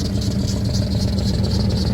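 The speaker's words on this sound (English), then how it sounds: "But the damn Jeep is running with no problem." A Jeep engine idles at close range with a noisy, faulty catalytic converter, giving a steady loud rumble with a rattly, buzzing edge and no variation in pace.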